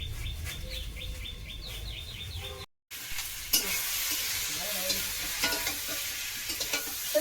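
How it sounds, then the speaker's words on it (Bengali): Vegetables frying in a pan in a home kitchen, a close steady sizzle with stirring scrapes, a brief dropout partway through, and faint bird chirps in the background. "তো সবজিটা কিন্তু আমার ভাজা ভাজা হয়ে গেছে"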